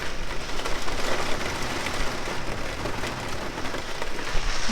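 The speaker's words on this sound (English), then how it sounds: "huge rainfall outside, and also this is the first time we have actually seen thunderstorms in Portugal" Heavy rain drumming steadily on a truck camper roof during a thunderstorm in Portugal, a dense, loud, continuous downpour with no pauses and only faint low rumbling beneath it.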